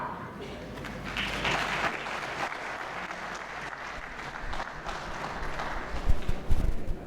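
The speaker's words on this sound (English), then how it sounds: "you need a big round of applause again" Dense, steady applause from a conference session audience fills the room for several seconds, swelling slightly louder near the end, with faint talk underneath.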